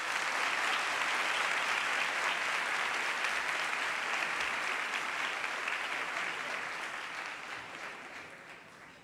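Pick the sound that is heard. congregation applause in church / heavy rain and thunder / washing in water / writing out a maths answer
congregation applause in church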